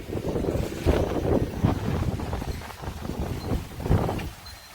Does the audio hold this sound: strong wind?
yes